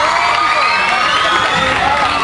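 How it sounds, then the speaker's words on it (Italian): A crowd cheers and whoops loudly, a dense wash of voices sustained for a couple of seconds. "Fatemi sentire un applauso"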